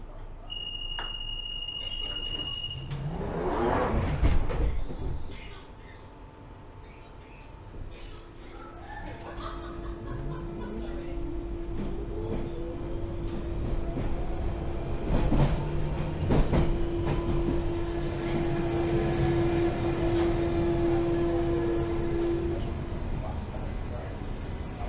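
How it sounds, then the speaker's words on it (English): A London Underground Night Tube train pulling away from the platform after the doors close, rising motor whine and rumbling wheels building steadily, with a loud burst of noise near the start and talk over it. "Trains ready to depart, stand clear of the doors."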